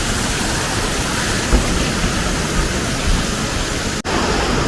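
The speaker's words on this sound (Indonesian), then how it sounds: "Sungai Mahakamnya harusnya deras banget" Rushing rapids of the Mahakam River roar as a dense, unbroken wash of white water, loud and close throughout.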